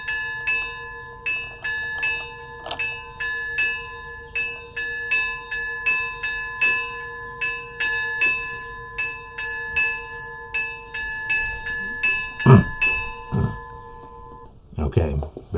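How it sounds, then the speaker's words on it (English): Monastery bells at Simonopetra ring in a steady, regular pattern of bright, sustained tolling strikes, about two per second, holding for most of the stretch before a few louder knocks and clatter close by at the end. "the bells of Simona Petra."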